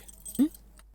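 A bunch of keys jangles briefly as it is handed over in a Tamil household scene, one quick metallic rattle close by amid faint background sound.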